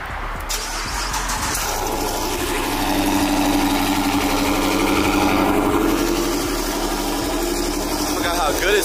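A Dodge Challenger convertible engine idles in a steady, even rumble up close. It starts abruptly at the beginning, and people talk nearby.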